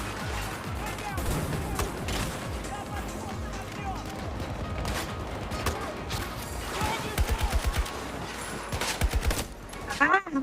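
Shooter video game gunfire, bursts of shots and volleys crackling through a busy battle mix, growing sharper and louder toward the end, with voices talking over parts of it.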